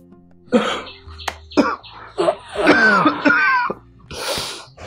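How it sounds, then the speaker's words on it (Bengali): A person coughs repeatedly at close range in a series of harsh, raspy bursts, with throat clearing between fits. "কাশিটা কি বাড়ছে নাকি আবার?"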